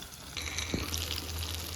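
A soft, steady sizzle of seer fish frying in a pan, heard close and fairly quiet, with a faint low hum underneath.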